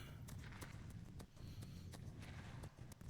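Horse hooves clip-clop in a video game, a quiet, steady walking rhythm of sharp knocks over a low background bed, no talking.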